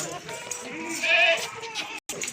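A nanny goat and a billy goat for sale bleat in a close, wavering cry that peaks midway, followed by a brief dropout and quieter background noise.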